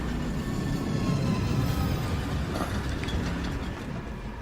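A train rumbles along in the video game Killzone Shadow Fall, a steady rolling clatter with mechanical rattles and a faint squeal heard continuously throughout.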